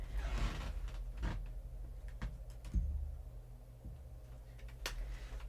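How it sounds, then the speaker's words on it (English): A squeaky wooden floor creaks underfoot indoors, with several scattered low groans and creaks spread irregularly across a quiet room, no talking. "As you guys get to hear my squeaky floor"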